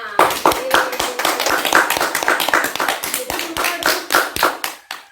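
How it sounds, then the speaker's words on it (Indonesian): Children in a classroom clap their hands together in a quick, fairly loud, slightly uneven rhythm of sharp claps, with voices mixed in among them. "kalian bisa tepuk tangan untuk diri kalian semua"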